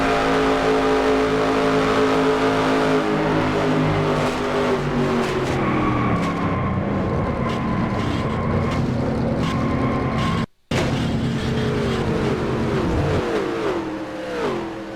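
Loud race car engine revving and surging as heard from an onboard camera during a Daytona 500 stock car race in a racing video game, with pitch sweeps, a brief cutout and fluctuating throttle.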